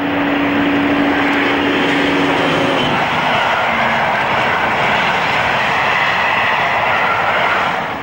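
Class 55 Deltic locomotive Meld hauling a southbound train at Northallerton, a steady, loud, broadband engine roar that holds for the whole stretch, with a low droning tone in the first few seconds.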